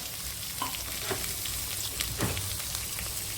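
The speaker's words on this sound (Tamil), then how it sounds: "அதனால் முதல் கோவக்காயை போட்டு வணக்கலாம்." Ivy gourd frying in a pan for chutney gives a dense, continuous sizzle with a few soft stirring scrapes, close and steady throughout.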